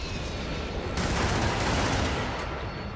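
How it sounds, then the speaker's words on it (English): A machine gun turret in a video game fires a continuous dense burst, steady and moderately loud, with no talk over it. "here's an example of why turrets are terrible"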